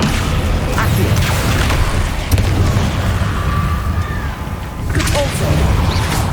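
Hogwarts Legacy spell effects burst and boom in quick succession, with whooshing hits and crackling impacts over a dense, loud game soundscape.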